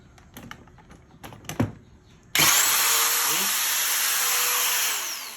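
A local-brand, Makita-branded power drill is handled with a few sharp clicks and knocks, then switches on into a loud, steady high whir that runs continuously before starting to wind down at the end.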